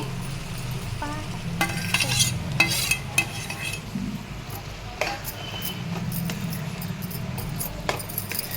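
Chana dal tipped into a pan of softened curry base and stirred, with scraping spoon strokes against the pan and a low sizzle running underneath, close by and fairly even throughout.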